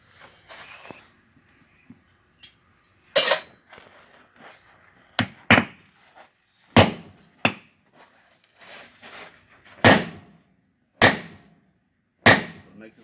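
Irregular hammer blows ring out on hot steel while a blacksmith forges a bottom fuller, with about a dozen sharp metallic strikes spaced unevenly and quiet pauses between them, close and clear.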